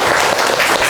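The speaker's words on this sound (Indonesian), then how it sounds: "Kita tepuk tangan dulu." Students in a classroom clap together, a short loud burst of dense close applause lasting under a second.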